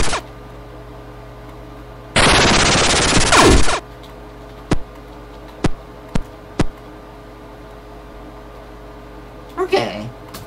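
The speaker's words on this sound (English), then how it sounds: "Give me my shotgun." A shotgun fires in the video game Radioactive Decay, one long loud blast burst followed by several short sharp reports spaced a second or so apart, then a rougher clattering burst near the end.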